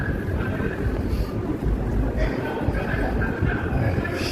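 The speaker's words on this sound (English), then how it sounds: "The wind is always fucking blowing around here." Steady wind buffets the microphone with a low rumbling roar, continuous and fairly loud from start to finish.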